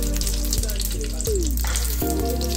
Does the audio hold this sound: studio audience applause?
no